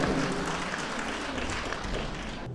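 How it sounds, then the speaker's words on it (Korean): An audience at the opening ceremony of a Korean arts festival applauds a singer, a dense, continuous wash of clapping that holds steady throughout. "자, 여러분 다시 한번 큰 박수로 맞이해주시죠."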